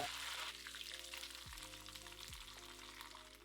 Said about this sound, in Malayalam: ചൂടാകുമ്പോൾ 1/2 ടീസ്പൂൺ കടുകിട്ട് പൊട്ടിക്കുക.